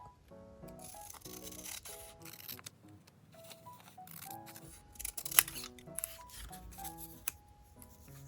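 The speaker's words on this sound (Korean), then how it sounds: "이거를 좀 잘라볼게요. 가위로 잘라." Scissors snip through paper in a series of crisp, quiet cuts with small rustles, close up and without talk.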